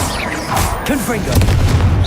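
A Confringo blasting spell explodes in Hogwarts Legacy on PC, a loud booming burst amid a busy combat mix, with a player's voice over the top.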